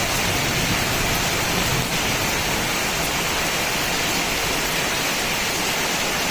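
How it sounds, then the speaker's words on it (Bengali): Heavy rain pours outdoors over a small garden, a dense, constant hiss that stays loud and even throughout with no voices. "শব্দ শুনলে তো বুঝতে পারছো তোমরা নিশ্চয়ই শব্দ শুনে কি পরিমাণে বৃষ্টিটা হচ্ছে"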